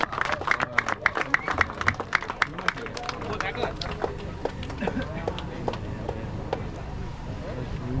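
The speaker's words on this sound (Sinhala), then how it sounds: "පොඩි ක්ලැප් එකක් දීලා දෙන්නකෝ" A crowd at a cast fishing tournament breaks into scattered applause, with claps loud and dense at first, then thinning into murmuring chatter and background voices.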